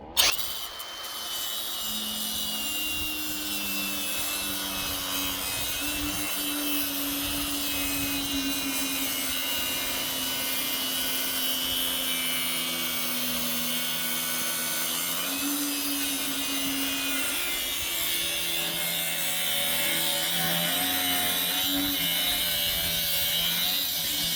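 A power tool cuts steadily through the front springs of a 1964 Suburban, a continuous harsh grinding whine with a shifting tone that runs the whole time without a break.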